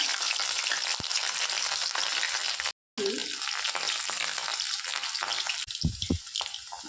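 Loud, continuous sizzling of garlic frying in hot oil with curry leaves, briefly cutting out, with some stirring clatter near the end.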